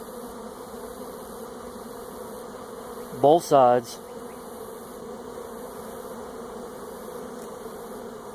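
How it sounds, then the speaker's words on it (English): Honey bees hum steadily inside a hive box during a move from a nuc, a constant close buzz throughout, briefly interrupted by a short spoken phrase. "Man, there's a lot of bees in this box."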